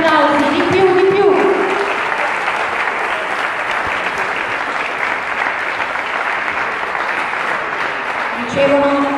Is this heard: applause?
yes